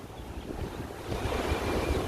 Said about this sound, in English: So we are going to see how the waves are proceeding.